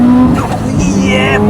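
A 500 hp Subaru Impreza WRX STI with a built 2.1-litre engine drives hard, engine roaring loud and close as tyres squeal and skid in rising whines, with a voice talking over it.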